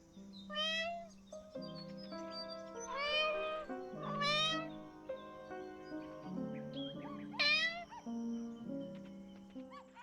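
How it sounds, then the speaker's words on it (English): A cat meows repeatedly in the Copycat video game, several drawn-out, rising and falling cries spaced a second or two apart over soft game music. "Sure, you can meow unlimited times,"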